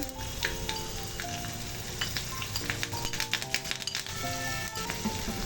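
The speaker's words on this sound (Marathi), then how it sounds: "एक चमचा तीळ आणि हिरवी मिरची आणि कढीपत्ता टाकलेला आहे" A tadka of sesame seeds, green chili and curry leaves sputtering in hot oil for rava dhokla, steady crackling sizzle with scattered pops and a faint metallic clink, close and without talk.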